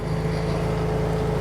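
A 2022 John Deere Z735M zero-turn mower runs nearby, its engine a steady loud drone with a constant low hum and no change in pitch.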